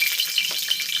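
Dried red chillies frying in hot oil for a local chicken curry, giving a steady close sizzle with faint stirring scrapes and no talk.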